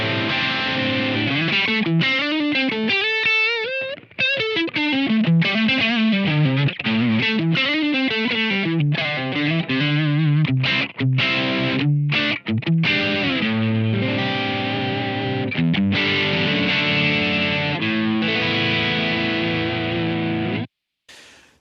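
Electric guitar played through a Blackstar Dept. 10 Dual Distortion valve pedal with all controls at noon and no reverb or delay, loud saturated distorted notes and bends in a steady run, ending abruptly.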